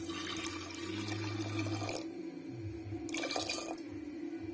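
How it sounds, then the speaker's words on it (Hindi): Water poured into a cooking pot while making Odia-style sadha besara, a broadband splashing pour of about two seconds followed by a second shorter pour, heard alone and close. "बर्तमान हम एथरे पानी पके नेबा।"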